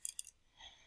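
Two quick, sharp clicks from a mouse in drawing software, close and clean, followed by a faint soft rustle.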